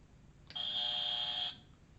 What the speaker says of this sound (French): Le buzzer sur M6.